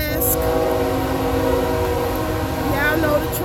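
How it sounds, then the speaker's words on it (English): A train passes close by, sounding its horn as a loud, sustained multi-tone chord that holds steadily throughout, with a rumbling undertone from the train. "Y'all know the train got to make an appearance in all my videos."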